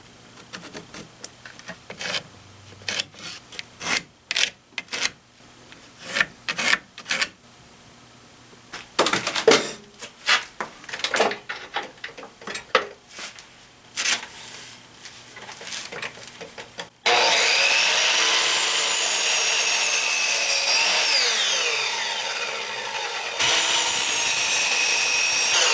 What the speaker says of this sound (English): I'm going to get to cutting this up to make the steps